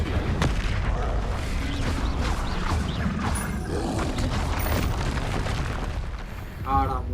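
Incendio fire spell cast in Hogwarts Legacy, a dense roaring, crackling burst of flame and booming combat effects running continuously for several seconds, loud and close, with a voice talking over it.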